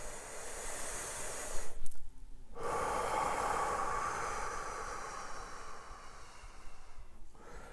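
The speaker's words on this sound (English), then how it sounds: "Let's take another deep breath together." Deep breathing during a guided meditation: a long, hissing inhale followed by a slow, steady exhale, heard close and fairly quiet with no talking over it.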